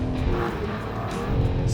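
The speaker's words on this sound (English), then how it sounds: "Now about that 6-cylinder BMW noise you're hearing, it sounds very BMW." A 2021 BMW M4 Competition's six-cylinder engine revs and pulls under load, a steady loud mechanical drone with road and tire noise, heard from inside or near the car.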